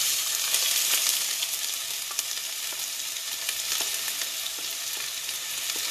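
Onion frying in a little oil for a Tunisian beef qlaya, giving a steady broadband sizzle with faint crackles throughout, close and continuous with no talking.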